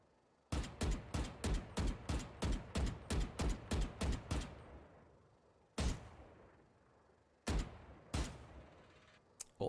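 Vandal rifle fire in Valorant: a rapid burst of about a dozen sharp, loud shots in even rhythm, then a pause and single spaced shots with ringing tails, heard alone without talk.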